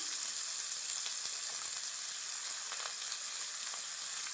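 Washed, cut potatoes sizzle in hot oil tempered with nigella seeds, a steady, even frying hiss with faint crackles and no talking.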